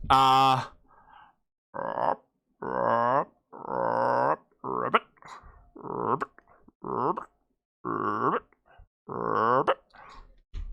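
A man imitates a frog croak with a string of about nine deep, throaty, voiced croaks in an uneven rhythm, close to the mic, with a burst of other sound at the start.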